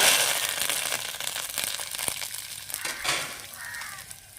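Curry leaves crackle and spit as they drop into hot oil for tempering, with dried red chillies and seasoning spices, while drumstick-leaf chutney is made at home. The sputtering is dense and fairly loud at first, then eases into a softer sizzle.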